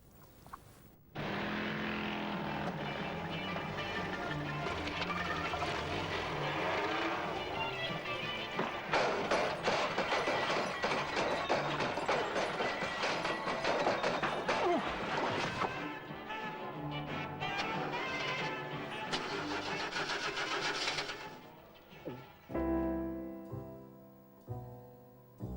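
A motorcycle engine in a Hamlet cigar advert roars loud and steady for about twenty seconds, then cuts away into a few short fading bursts.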